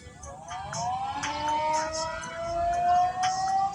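A wailing siren rises and holds steady, sounding continuously for several seconds against a background of outdoor crowd noise.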